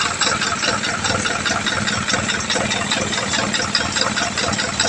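An Isuzu 4HL1 diesel engine runs after starting, a loud, close, steady knocking idle with rapid even pulses throughout.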